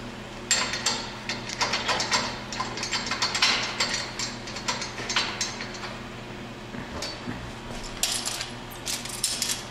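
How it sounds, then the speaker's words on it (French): A scaffolder's ratchet wrench tightens clamps on scaffold tubes, with bursts of rapid metallic clicking repeating in quick runs, close and fairly loud, separated by brief pauses. "Faire de la clé de monteur pour serrer les attaches."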